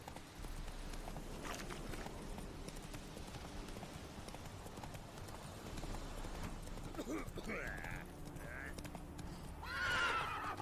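Roach, a horse in The Witcher 3, trots with steady clip-clop hoofbeats and gives a loud, close whinny near the end, beneath a continuous game backdrop with someone speaking over it.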